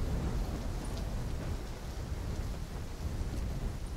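Steady heavy rain with low rolling thunder in a storm scene from the video game Call of Duty: Black Ops III, a dense continuous roar with no speech.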